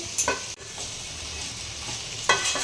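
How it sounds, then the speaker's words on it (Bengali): Shredded cabbage frying with spices for a fish-head jhal, a constant bright sizzle broken by a couple of quick scraping stirs of the spatula against the pan. "কপিটা এভাবে দিয়ে দিচ্ছ না ওকে করে আমি ভেজে নেব মশলার সাথে"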